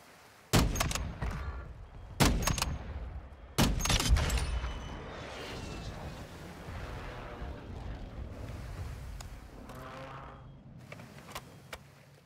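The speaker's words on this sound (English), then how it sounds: "Friendly airstrike in the AO." Friendly airstrike in Call of Duty Warzone 2.0: three heavy explosions land in sequence, each a sharp loud crack trailing into rumble, followed by a fading roar and scattered distant pops.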